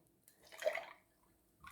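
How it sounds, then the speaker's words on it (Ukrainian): Homemade lemonade is poured over ice cubes in a glass, giving a soft, brief liquid splash and trickle, followed by a faint second pour near the end. "Наливаємо наш ароматний напій."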